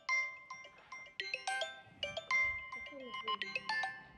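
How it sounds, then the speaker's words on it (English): A mobile phone ringtone plays a bright, repeating electronic melody of short tonal notes in quick succession, fairly close and clear, with no talking over it. "Okay, my phone is ringing."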